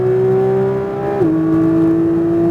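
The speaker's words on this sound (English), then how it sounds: "Let it rev up. Let it rev higher." Porsche 992 GT3 flat-six engine revving on a track, a steady loud high-pitched drone that briefly dips then settles into a slightly lower sustained tone, heard up close from inside the car with no talk.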